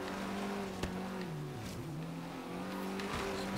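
A lightweight road racing car in Forza Horizon 3 drives with a steady, droning engine note that rises and dips with shifts and throttle changes, plus faint tire noise, heard alone at moderate level.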